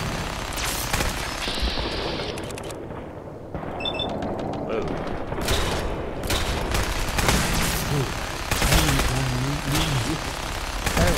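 Sustained gunfire from Fallout 4 combat comes as rapid bursts and overlapping shots, loud and close throughout, with brief pauses and someone speaking intermittently over it.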